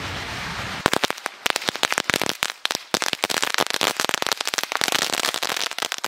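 A mini 1000-wala Sivakasi firecracker string goes off in a dense, loud chain of sharp cracks and pops that rattles on unevenly for several seconds.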